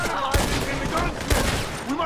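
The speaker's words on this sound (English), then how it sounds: "What is that? A machine gun." Heavy machine gun fire during a Red Dead Online shootout sounds as loud, booming bursts with two strong reports standing out amid dense rolling gunfire and noise.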